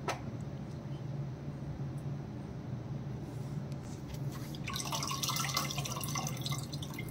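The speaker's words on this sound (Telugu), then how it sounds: "మళ్ళీ కూడా ఆ చింతపండులో వాటర్ యాడ్ చేసుకొని కలుపుకొని దాంట్లో యాడ్ చేసుకోవచ్చు పులుసు" Tamarind water is poured into simmering fish curry gravy (chepala pulusu), a soft steady trickle and splash that grows busier toward the end over a low kitchen hum.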